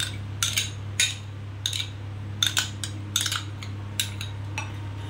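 Spoon clinking against a pan while yogurt is stirred into hilsa fish curry (doi ilish), giving a series of sharp metallic taps and scrapes at irregular intervals over a steady low hum.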